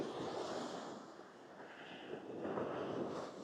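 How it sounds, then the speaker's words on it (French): Gusty wind buffets the microphone on the beach at Rayol-Canadel, a continuous low rumbling roar with a faint surf-like wash beneath, swelling and easing slightly throughout. "Il y a pas mal de vent."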